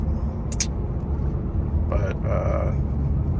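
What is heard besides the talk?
Ford F-series truck with WWP straight-through exhaust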